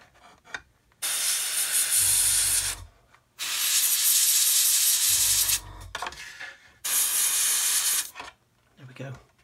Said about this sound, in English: Gonna blow some black paint in there.